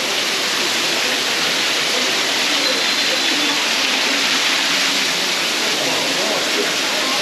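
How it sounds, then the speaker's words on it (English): Steady, loud rush of the waterfall at Ma'in hot springs in Jordan, heard from underneath it in a cave, a continuous broadband roar that holds unbroken from start to finish. "I'm now walking under the waterfall."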